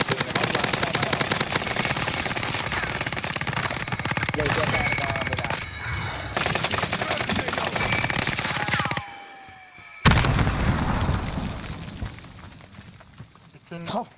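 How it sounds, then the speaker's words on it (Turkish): Rapid machine-gun bursts and heavy cannon fire from the Warzone video game, with an STG-44 rifle in use, rattle in dense runs broken by short gaps, while players chatter over the shooting. "Ağır top atıyor, yine bak."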